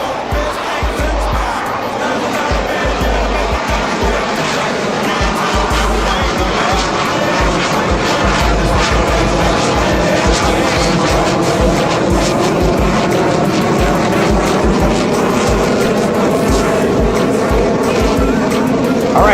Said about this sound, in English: let's watch as Hicks shoves it into Afterburner, and off he goes